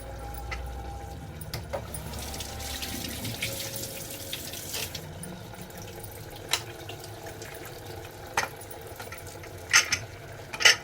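Tap water runs steadily onto a pressure cooker lid at a kitchen sink, a continuous splashing flow with a few small clinks of metal near the end.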